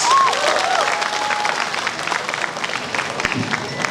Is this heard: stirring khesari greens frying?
no